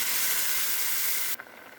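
Water poured into a curry frying in a pan sets off a loud, hissing burst of steam and sizzle that cuts off abruptly, leaving a quieter bubbling.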